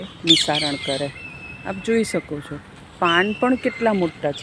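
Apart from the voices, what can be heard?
birds chirping during the monsoon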